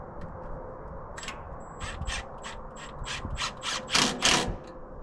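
A ratchet wrench tightening nuts and bolts on an engine, a series of short metallic clicking bursts in a quick uneven rhythm, close and fairly quiet with no talk.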